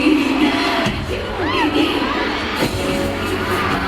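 A large concert crowd screams and cheers continuously for a performer during a pop group's dance break, with high-pitched shrieks and whoops rising over the dense roar of the arena.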